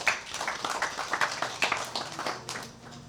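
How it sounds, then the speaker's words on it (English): An audience at a network marketing office inauguration event claps together, a dense patter of hand claps lasting a few seconds at moderate loudness, with a faint steady hum underneath. "Can you clap for yourself?"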